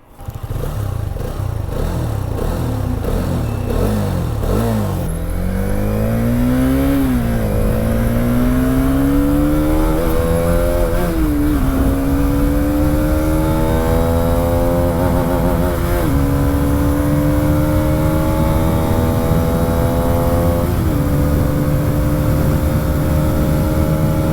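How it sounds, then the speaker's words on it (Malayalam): Hero Karizma XMR motorcycle with a 210cc DOHC liquid-cooled engine revs loudly and steadily up through climbing engine pitch, a close, continuous motor drone with no talking. "to ten C C D O H C എൻജിനാണ് liquid കൂൾഡാണ്"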